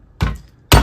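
Two sharp, loud hammer blows on a metal switchbox clamped in a vise, each a hard percussive whack with a brief ringing decay, spaced about half a second apart.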